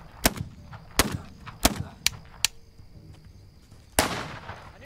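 Single sharp gunshots from the video game This Land Is My Land crack out one at a time, five spaced reports followed by a heavier blast with a trailing echo, loud against a quiet background.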